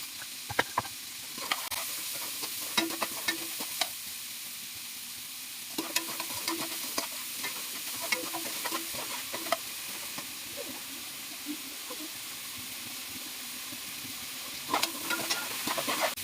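Salted onions sauté in a pan for a dry prawn kulambu, giving a constant, close crackling sizzle broken by occasional clicks and scrapes of stirring.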